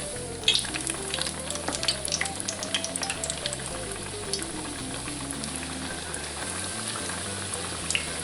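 Chicken tenders fry in hot oil in a cast iron pan, a steady dense crackle and bubbling sizzle throughout with a few sharper pops, close and continuous with no talking.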